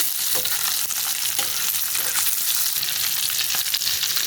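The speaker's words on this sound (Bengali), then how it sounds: "ডিমগুলো সব উল্টে দেবো আমি। একদিক ভাজা হয়ে গেছে, আর একদিক ভাজা হয়ে গেল।" Eggs sizzle loudly in hot oil, a steady crackling fry close up with occasional scrapes and taps of a utensil in the pan.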